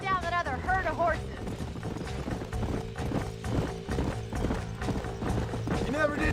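Horse hooves clip-clop at a steady trot in the video game Red Dead Redemption, close and rhythmic, with a horse's whinny near the start and a faint voice in the background.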